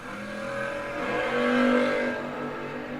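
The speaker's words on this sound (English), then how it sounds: "And this one's over with before it starts as Joyner turns at 10 thou red" A Camaro launches at a drag strip, its engine roaring loud and rising in revs with strong harmonic drone over about three seconds, peaking midway before easing slightly.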